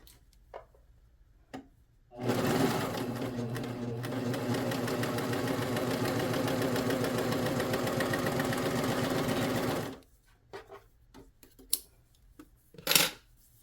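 A Bernette Funlock B48 serger sews fabric in a three-thread super stretch stitch, giving a loud, fast, steady mechanical whir for about eight seconds, with quiet handling clicks before and after.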